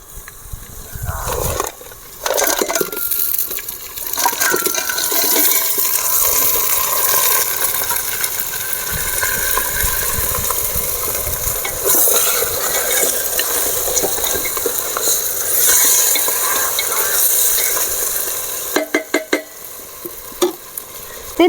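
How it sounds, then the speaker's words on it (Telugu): Cleaned crabs dropped into hot oil in a pan, a loud, steady sizzle and crackle of frying that runs on throughout, with brief clatters and stirring sounds near the end. "ముందుగా నీట్గా క్లీన్ చేసి పెట్టుకున్న ఎంత పీతలను అయితే వేస్తున్నా నూనెలో వేసేస్తున్నా"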